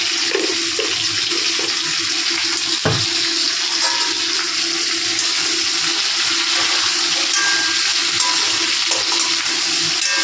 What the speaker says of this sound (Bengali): এদিকে মাছটা ভাজা বসিয়েছি